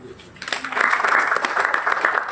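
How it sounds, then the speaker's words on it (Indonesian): A congregation at a Sunday worship service claps together, the applause swelling after a quiet start and holding steady and fairly loud to the end. "Tepuk tangan."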